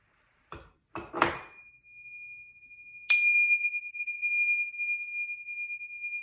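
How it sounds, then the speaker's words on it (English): A few soft knocks, then a single bright bell strike at about three seconds, ringing out with a long, clear sustained tone that slowly fades. "now we'll take a moment to end with the bells."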